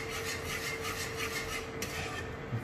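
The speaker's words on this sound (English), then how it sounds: "Just gonna keep mixing or whisking till we get to a gravy consistency." Gravy thickened with stock is being whisked for a KFC-style mash and gravy, giving a continuous, quiet, rapid scraping and swishing with no pauses.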